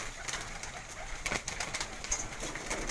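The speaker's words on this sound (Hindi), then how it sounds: "वड्डे कबूतर नर मादियां तैयार होई गईं" Pigeons on a rooftop loft, large male and female birds, with soft cooing and bird calls running steadily through the clip amid light outdoor noise and occasional brief wing or movement sounds.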